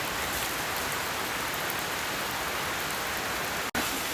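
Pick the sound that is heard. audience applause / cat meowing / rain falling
rain falling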